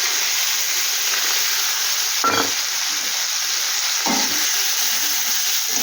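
Grated onion fries in a pan with a loud, constant hiss of sizzling oil. Two brief scraping strokes of stirring break through the steady sizzle.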